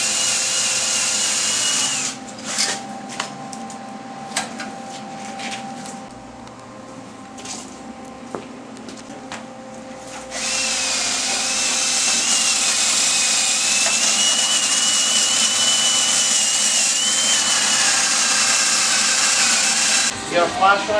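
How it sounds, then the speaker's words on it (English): Welding a new skid plate onto the frame of a Polaris Expedition 425 4x4 ATV: a steady loud hiss and crackle of the arc runs through long stretches, broken by pauses, with people talking in the shop. "we're finally welding in that new skid plate"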